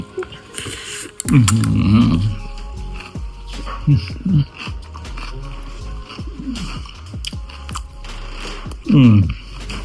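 Someone bites into and chews fresh Thai spring rolls (popiah) at a long-established restaurant, with loud close crunches in a few separate bursts between quieter chewing, and someone speaks between bites.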